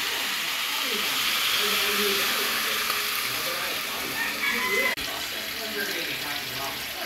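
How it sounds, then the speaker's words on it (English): Tap water pours into a cooking pot for a pork spare rib stew, a steady loud hissing rush that runs for several seconds before a brief break and continues. "now I just add water"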